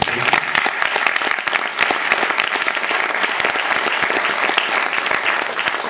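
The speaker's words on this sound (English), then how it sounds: "So a big round of applause." Loud, dense audience applause at a Carnatic music school's student awards ceremony, individual claps crackling sharply throughout with no break.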